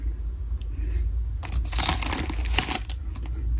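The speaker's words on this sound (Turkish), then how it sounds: "Şu jelatin sesi." Cellophane wrap crinkles and tears loudly in bursts while a new MacBook Pro box is unwrapped, close up over a low background hum, with no talking.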